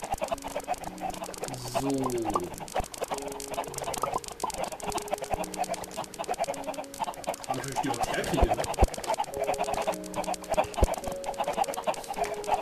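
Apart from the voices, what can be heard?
chickens clucking in the video game Minecraft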